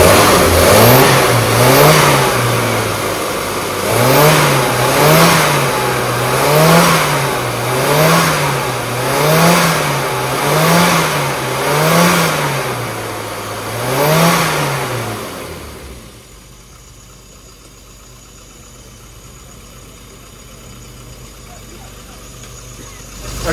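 Engine of a car being tuned at the CMC Riviera Run 2024, with spark plugs and compression under attention. It is cranked and revved in steady rising-and-falling pulses for about fifteen seconds, then cuts out, leaving quiet background and a brief spoken word.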